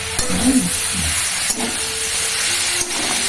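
Chillies hit hot oil in a pan and sizzle and hiss steadily throughout. A few soft clinks and stirring knocks sound close by.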